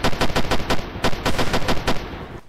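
Rapid machine-gun fire in a Roblox superhero tycoon game, loud bursts of evenly spaced shots repeating for about two seconds before fading, with no talking.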